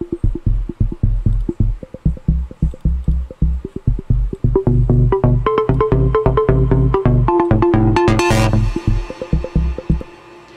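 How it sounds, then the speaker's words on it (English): Glitchy synth lead played an octave higher in an FL Studio build-up, stuttering in fast rhythmic pulses over a deep repeating bass, loud and dense, rising to a bright noisy burst near the end. "a different variation of this lead, which is just playing at a higher octave"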